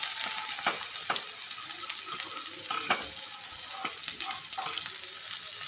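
Chilies and onions sizzle and fry in a hot wok (kadai), a steady crackling hiss with scattered sharper pops and stirring clicks, close and continuous, with no talking.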